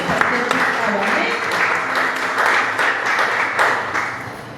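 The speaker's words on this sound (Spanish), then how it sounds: "denle un fuerte aplauso al Señor" A church congregation claps loudly and steadily for several seconds, a dense wash of hands with voices murmuring underneath.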